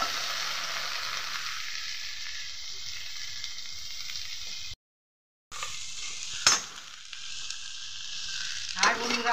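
Chopped tomatoes scrape and rustle as they are stirred in a dry pan, a steady close hiss broken by a brief silent gap, then sharp metallic clinks of a spoon against the pan near the end.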